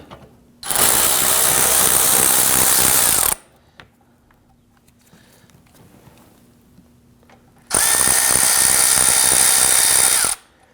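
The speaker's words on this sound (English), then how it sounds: "There should be 8 T30 Torx screws holding the splash shield to the bottom of the engine cradle. You want to get and loosen and remove these." A power driver spins out T30 Torx screws holding the splash shield under the engine cradle of a Volvo XC60, sounding as two loud, steady whirring bursts of several seconds each, separated by a quiet pause, with no talk.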